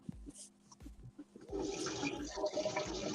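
Water runs into a sink, starting as intermittent splashes and then becoming a steady, close gush with a hissing flow and some bubbling.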